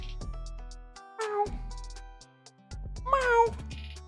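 A cat meows close by, several distinct meows spaced across a few seconds with quiet gaps between, one longer drawn-out call near the end.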